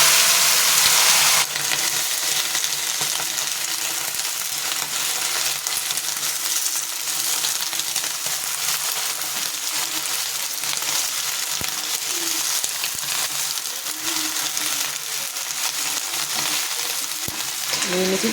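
Vegetables sizzle and fry in hot oil in a kadai with five-spice seeds, dried red chillies and bay leaf, a steady close crackling hiss that flares loudly at the start and continues evenly, with no talking.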